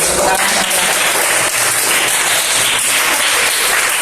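A class of students clapping together in a dense, sustained burst of applause lasting the full stretch, loud and close, with faint voices mixed in.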